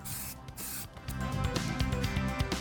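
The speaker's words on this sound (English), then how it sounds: "We sprayed 1 coat of primer and 2 coats of paint." Shellac-based primer is sprayed from a can in several short, close hissing bursts, separated by brief pauses and then growing into a denser spray.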